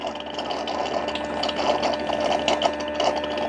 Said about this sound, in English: It uses the mop pads to help clean that base station.